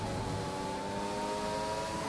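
F1 race car engine in F1 2021 during an overtake on the start-finish straight with DRS open, a steady high-pitched whine held at constant revs, fairly soft and continuous.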